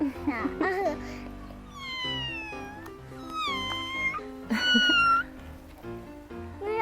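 A cat meows several times at close range, drawn-out rising calls spread over the span, while a child and an adult chatter and laugh in a home as the cat is offered a piece of shark meat.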